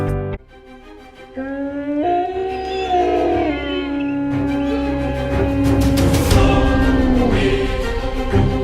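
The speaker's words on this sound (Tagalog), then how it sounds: "Kayo ba ay may alagang aso? Narinig niyo na ba siyang umalulong?" A pet dog howls in long, drawn-out wavering tones that rise and fall, loud and close, filling the stretch alone with no talk over it.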